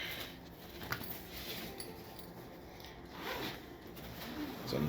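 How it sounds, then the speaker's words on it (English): A zipper on a Neewer COB studio light's carrying bag is pulled open in short rasping strokes, soft and close, with light handling noise in between. "Let's unzip this guy here."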